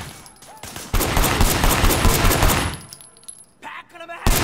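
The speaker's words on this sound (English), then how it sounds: "Shooting at the guys over there." Gunfire in the video game Sleeping Dogs, a dense loud burst of rapid automatic shots lasting a couple of seconds, followed by scattered single cracks.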